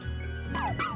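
Synthesized puppy Pokémon cry from the Pokémon Moon video game, two short rising-falling yips in quick succession over a soft background tone.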